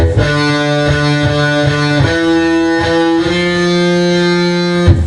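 A distorted electric guitar plays a fuzzy riff of repeated notes with a few slides, loud and thick with sustained overdriven tone.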